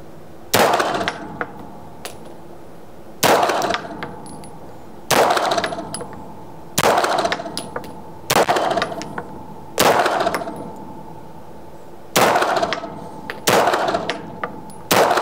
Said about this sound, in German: wir versuchen jetzt mit das zu schießen, um zu schauen, ob es für mich funktioniert